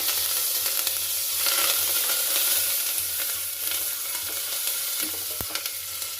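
Curry leaves and chillies fry in hot ghee with mustard seeds for ginger pongal, giving a dense, steady close sizzle with a few small pops and a brief stir clink and no speech.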